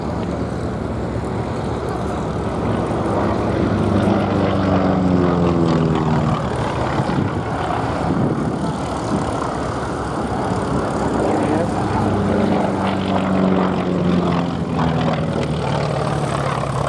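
North American T-28 Fennec running in for a display pass at Duxford Airshow, a loud radial-engine and propeller drone that swells, shifts pitch and fades, with a commentator talking over it.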